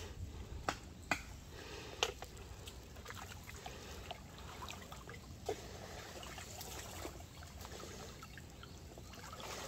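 Strong river current rushing over a shallow bed, a steady broad wash of flowing water with occasional splashes and clicks, moderately close and without talk.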